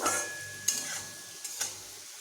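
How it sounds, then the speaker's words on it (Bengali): Potatoes fry gently in a pan, a soft sizzle broken by two brief scraping stirs, fairly quiet and with no voices. "আলুগুলোকে আমি একটু ভালোভাবে ভেজে নিচ্ছি"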